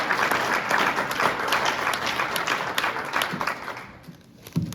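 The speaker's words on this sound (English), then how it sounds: "So give it applause." A crowd applauds guest speaker Willie Burton, a Gopher basketball legend, at a Golden Dunkers pre-game event: dense, steady clapping that stays strong, then thins and fades near the end.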